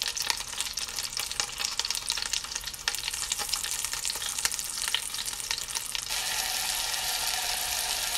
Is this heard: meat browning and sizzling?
yes